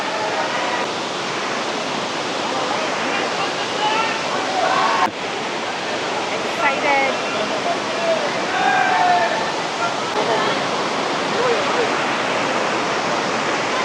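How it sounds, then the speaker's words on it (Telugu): Water rushes steadily at the Netravathi river waterfall in the Western Ghats of Karnataka, a constant loud hiss with faint voices under it. "Netravati water fall."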